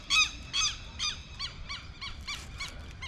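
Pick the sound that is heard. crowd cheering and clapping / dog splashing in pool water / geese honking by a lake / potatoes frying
geese honking by a lake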